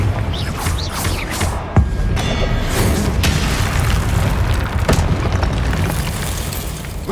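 A Confringo blasting spell goes off in the video game Hogwarts Legacy, producing booming explosive bursts with a sharp crack near the start amid continuous dense rumbling.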